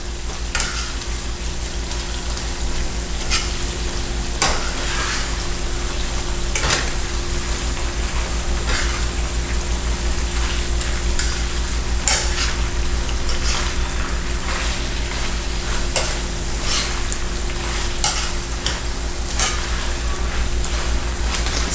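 Saltfish (codfish) stirred in a frying pan, a steady close sizzle with repeated utensil scrapes and knocks against the pan throughout, no talking.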